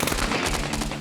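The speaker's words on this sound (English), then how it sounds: "they were hit by a hail of bullets." Rapid automatic gunfire in a hail of bullets during an armed raid on a compound, a dense loud burst of overlapping shots lasting about a second.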